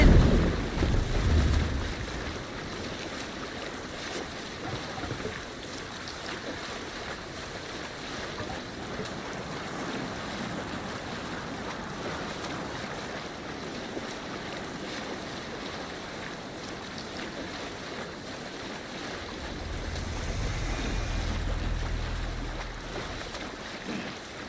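In Assassin's Creed Valhalla, a Viking sailing ship moves over open sea while steady wind and wave wash fills the scene. Low hull rumbles swell at the start and near the end.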